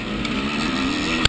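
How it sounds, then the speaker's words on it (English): A dirt bike engine runs at a GNCC hare scramble at Unadilla, a loud, steady buzzing drone with dense harmonics and a brief sharp knock just before it cuts off, close by, no voices. "Kept the bike running."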